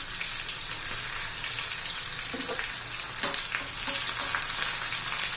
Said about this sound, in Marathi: चांगला तांबूस रंगावर होईपर्यंत आपण त्याला तळून घेणार आहोत